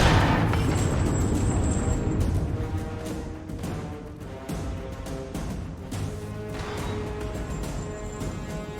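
A Guild Wars 2 battle on Claw Island rolls with cannons firing and explosions, a dense run of overlapping booms and blasts in a loud, continuous barrage with no clear gaps.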